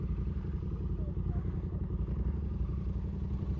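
A Yamaha R7 sport motorcycle runs steadily while being ridden through London, a loud continuous engine drone with road rumble and no pauses.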